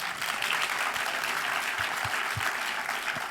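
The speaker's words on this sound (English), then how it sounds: "give that a round of applause, of course." An audience gives a round of applause at a film Q&A, dense steady clapping from a crowd for a few seconds, fairly distant and unbroken.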